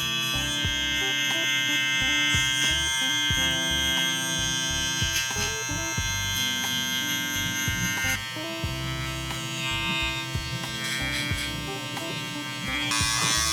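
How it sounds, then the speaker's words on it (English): A single-foil electric shaver buzzes steadily and close up as it trims hair during a dark low taper haircut, shaping a beard guideline. The even mechanical hum carries slight changes in pitch as it presses against the hair. "with my single foil shaver, that line of hair that we left becomes basically our little reference point"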